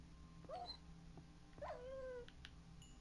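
A dog in the video game SurvivalCraft gives two short whining, whimpering yelps, moderately close, over a steady low game hum with no talking.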